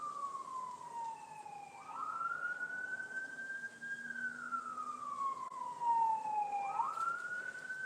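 A wailing siren rises and falls in long sweeps, steady and fairly loud, with faint road noise beneath and no talking.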